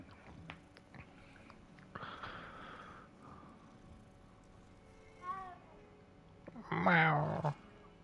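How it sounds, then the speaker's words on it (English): A cat meows in the video game Hogwarts Legacy, with one loud close meow standing out near the end among a few fainter cries and quiet background sounds. "Gotta pet the cat again."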